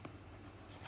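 A teacher wipes writing off a classroom board, a soft continuous rubbing and scrubbing that runs steadily through the moment, quiet and close, with no talking over it.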